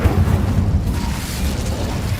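A fire spell cast in a video game, erupting as a loud, sustained low rumbling whoosh and boom that rolls on steadily for a couple of seconds with no talk over it.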